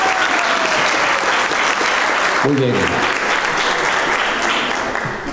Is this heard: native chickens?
no